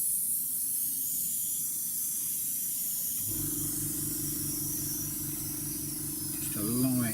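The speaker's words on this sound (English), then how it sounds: "I'm just going to come in and give it a coat of matte varnish" Airbrush spraying a coat of matte varnish onto a 1/32 Hasegawa FW190 D-9 scale model aircraft, a steady close hiss joined midway by a humming compressor drone.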